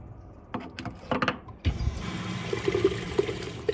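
A camper's chemical toilet cassette is emptied. A few clunks and handling knocks come first, then a steady rush of blue, foamy water pours out continuously at close range.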